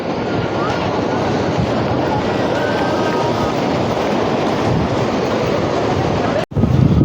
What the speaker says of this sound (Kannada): ನೋಡ್ರಿ ಸಮುದ್ರದ ಸೌಂಡ್ ಕೇಳ್ರಿ ನೀವು